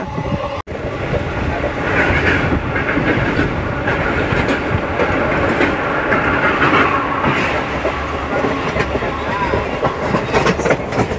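A Bitragunta to Chennai Central MEMU Express train running, a steady loud rumble of wheels and carriage with faint rhythmic clatter throughout, heard from on board, with a brief dropout near the start.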